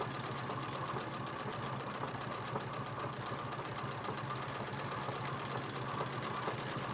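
A sewing machine runs continuously while free-motion quilting a wreath design on leather, giving a steady, fast mechanical whir and needle chatter, fairly quiet and close, with no talking.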